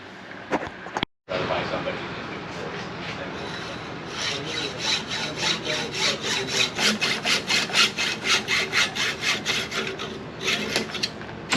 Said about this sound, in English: Perfect cut above the top bolt there and below the top